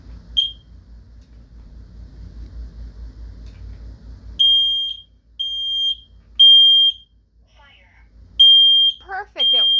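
Kidde combination smoke and carbon monoxide alarm being tested, sounding a single short beep and then a series of loud, shrill, evenly spaced piercing beeps at close range after a stretch of low background noise.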